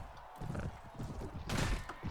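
Horse hooves clip-clop amid clattering thuds in a Perisno video game battle, with a sharp louder impact burst near the end.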